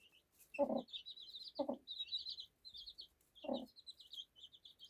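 Small chicks cheep in rapid, continuous high chirps while a hen gives three separate low clucks, all close by with no talking.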